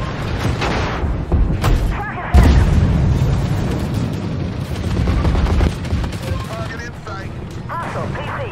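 Gunfire in a multiplayer military shooter game, loud repeated shots and heavy booms spread across the stretch, with a sharp blast partway through and busy battle noise throughout.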